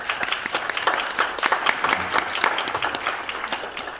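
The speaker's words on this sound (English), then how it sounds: "let's have a round of applause for our students that earned their certificates" Quieter applause at an information assurance conference for students earning certificates, a moderate crowd clapping steadily with distinct individual claps audible throughout.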